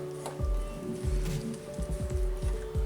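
Semolina is stirred with curd and salt in a bowl, producing close, wet squishing strokes in an irregular rhythm over a faint steady hum.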